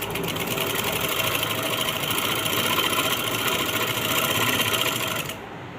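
Sewing machine running steadily while stitching a lapki edge seam on a kameez, a continuous close whirring hum with rapid needle chatter that cuts off near the end.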